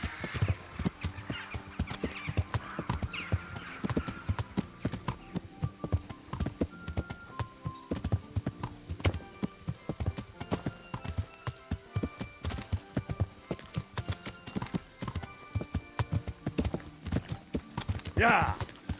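Horse hooves clip-clop steadily in Kingdom Come: Deliverance, a sharp, regular trot heard up close, with game music and someone talking over it.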